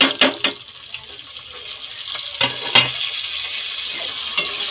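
Spices tipped into a hot pan for pulao, a sharp sizzle and clatter of a spoon followed by steady hissing and occasional scrapes, close and fairly loud, with no talk.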